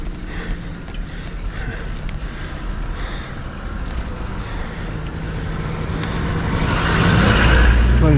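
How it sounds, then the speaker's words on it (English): A car approaches on a steep mountain road, a low rumble swelling louder over the last couple of seconds as it draws near, over steady mechanical clicking and background noise. "Car comes."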